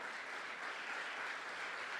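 A church congregation applauding during a Portuguese family worship service, a dense, even wash of clapping that sounds fairly distant and soft, holding steady for two seconds with no voices on top.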